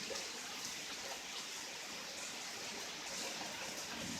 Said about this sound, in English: Wow, very, very heavy rain right now.